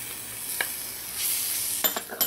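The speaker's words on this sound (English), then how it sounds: "add in my cardamom powder or elychee powder and give this a mix" A spoon stirs cardamom powder into cream of wheat in a pot, giving a few light scrapes and soft clinks against a quiet background hiss.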